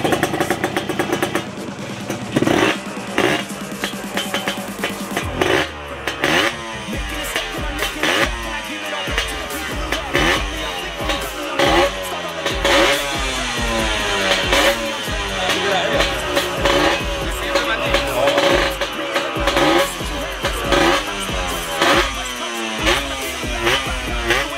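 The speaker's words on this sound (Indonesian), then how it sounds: "Wih, ini motor paling langka ini, motor paling ngeri ini nih," A Yamaha RX-King motorcycle engine revs repeatedly up close, sharp throttle blips and rising whines over a rough idle, loud throughout.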